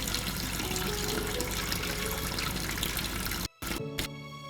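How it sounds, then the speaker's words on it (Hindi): Tap water runs in a steady broadband stream for about three and a half seconds, then cuts off abruptly, leaving a short gap before brief softer sounds follow. "पानी बह रहा था।"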